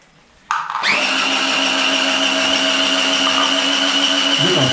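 Electric mixer stirring paint in a bucket before filling a Wagner airless sprayer, starting abruptly after a brief quiet, then a loud, steady whirring drone that holds evenly to the end.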